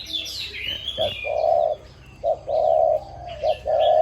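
A decoy dove coos in deep, repeated calls with short pauses between them, while smaller birds chirp faintly in the background.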